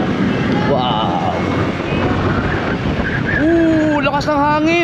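Strong cold wind buffets the microphone in a steady broadband roar on an outdoor scenic hilltop, with excited voices calling out over it.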